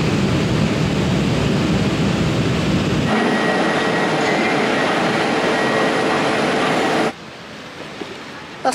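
A rail journey from Krakow airport into the city plays as a continuous loud rumble of the moving train, which eases and quiets sharply near the end as it slows.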